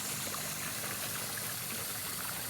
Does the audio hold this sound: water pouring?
yes